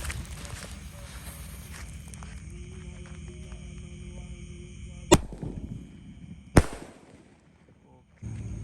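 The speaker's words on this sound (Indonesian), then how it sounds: "Ini ada mercon Gatot Kaca, kita nyalakan." A Gatot Kaca firecracker, lit outdoors on a Ramadan night, fizzes briefly before two sharp, loud cracks a second or so apart, followed by a quiet pause and renewed background noise.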